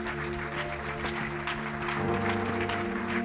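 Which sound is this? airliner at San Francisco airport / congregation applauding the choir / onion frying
congregation applauding the choir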